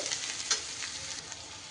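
Turmeric and red chilli powder frying in a pan while being stirred for a fish roe dish: a steady broadband sizzle with a sharp scrape of the spoon near the middle and lighter scrapes after, close and fairly quiet, with no voices.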